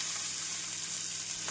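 Chopped onion, garlic and green chilli sizzle steadily in hot oil along with cumin and a small piece of cinnamon, a dense continuous frying hiss with no voices, close and even throughout.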